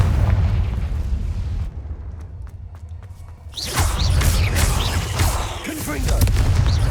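Confringo fire spell explosions in the Hogwarts Legacy video game, booming blasts and whooshing bursts of loud magical fire with a heavy low rumble, a quieter gap in the middle, then more crackling impacts and swishes.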